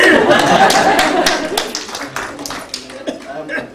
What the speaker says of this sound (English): you can clap if you want, Chris